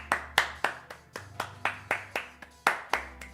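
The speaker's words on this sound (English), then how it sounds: "everyone, round of applause for Dominic." A single person claps about a dozen times at a steady, brisk rhythm, sharp and close, with no voices.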